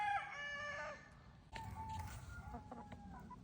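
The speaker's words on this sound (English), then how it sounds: "So these are the other cockerels, the neighbours' cockerels. And they all crow at each other." Neighbours' cockerels crow at each other, one full crow followed by another answering from farther off, both fairly faint over a quiet outdoor background.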